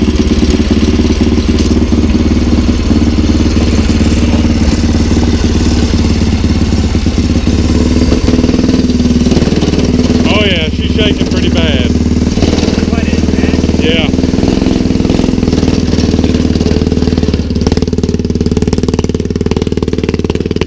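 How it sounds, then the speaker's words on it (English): A homemade rat rod wagon's small engine runs with a newly fitted exhaust, a loud, steady mechanical drone with rattling clatter and brief revving bursts midway, close to the microphone. "So we're gonna fire it up and see if we can"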